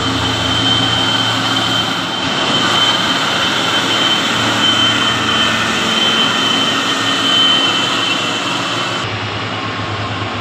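Mitsubishi 6x4 HD 220 PS dump truck labours up a hill at Bukit Kodok, its engine a loud steady roar with a sustained whine, close and continuous, with no voices.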